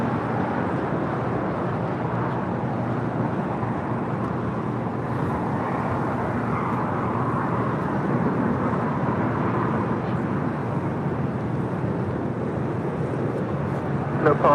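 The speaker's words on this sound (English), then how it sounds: "This is KLM 604 departing to Amsterdam, the 787-10 Dreamliner." A KLM Boeing 787-10 Dreamliner departs for Amsterdam, heard as a steady, broad jet roar that holds for the whole stretch with no breaks.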